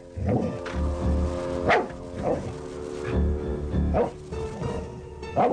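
A guard dog on night watch at a house barks repeatedly in loud, spaced bursts, several barks over a few seconds, close to the listener with a steady low background hum.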